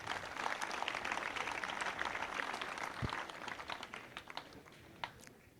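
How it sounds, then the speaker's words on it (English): An audience claps at a high school alumni day, a dense, steady wash of applause that holds for several seconds and then thins and tapers off. "Can we clap for the founders?"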